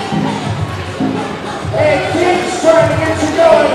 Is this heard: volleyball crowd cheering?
yes